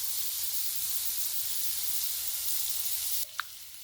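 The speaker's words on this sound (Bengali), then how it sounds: "ওদিকে আলুগুলো সুন্দরভাবে ভেজে নেব।" Potatoes frying in a pan give a steady bright sizzle close by, the hiss dropping suddenly near the end, followed by a single short clink.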